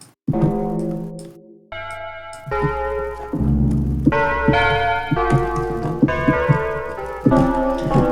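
An ARK 2601 complex wave synthesizer rings out bell-like tones in a sequence of sustained, shimmering notes with rich overtones, loud and close, one after another.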